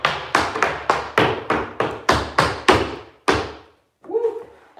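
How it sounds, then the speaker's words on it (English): Tap shoes striking a hard floor in a quick, even series of sharp taps through shuffles, hops, heels and toes during an open tap class warm-up, about ten crisp hits, ending with a short whoop. "Shuffle hop, shuffle cross, unwind, heel, heel, toe, toe."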